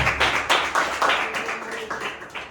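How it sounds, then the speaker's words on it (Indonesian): A classroom of grade 8 students clapping together, a short burst of crisp, fairly close hand claps in an uneven rhythm that thins out after a couple of seconds. "Oke, tepuk tangan untuk kita semua."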